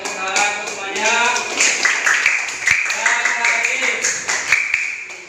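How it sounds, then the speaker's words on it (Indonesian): A class gives a round of clapping for everyone, with irregular bursts of hand claps mixed with people talking over them. "tepuk tangan untuk semuanya"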